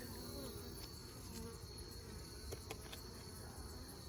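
Honey bees hum steadily around a hive near the queen during winter preparation, a faint continuous buzz with a few brief louder passes close by.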